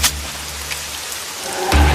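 Heavy rain pours steadily over a mountain village, a dense continuous hiss, with a low rumble of thunder swelling near the end.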